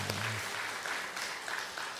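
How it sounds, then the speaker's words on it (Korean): Congregation applauding during a Sunday worship service in a church, a steady broadband patter of many hands held at moderate level for a couple of seconds, with a brief low voice at the very start. "박수하겠습니다."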